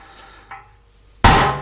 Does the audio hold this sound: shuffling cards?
no